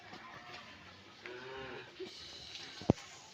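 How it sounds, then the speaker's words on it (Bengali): Cattle at a village farmhouse give a couple of soft, faint low moos amid quiet background noise, followed by a sharp knock near the end. "গরুরে খাওয়ান দিব আমার খালু এখন।"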